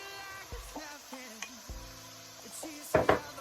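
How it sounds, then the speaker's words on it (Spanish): Onion, garlic and seasonings frying gently in a pan, a low sizzle under clinks and taps of a utensil stirring against the pan, ending in a louder pair of scraping knocks. "Y seguimos revolviendo, que se sofrían bien todos los condimentos"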